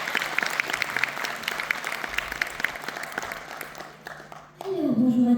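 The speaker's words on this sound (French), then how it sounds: "Applaudissements." An audience claps at a conference of voice dubbing actors, with sustained, moderately loud applause that tapers off before a sharp, louder sound at the end.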